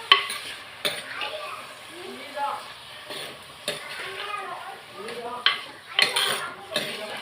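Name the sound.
eggplant sauteing in hot oil in a pan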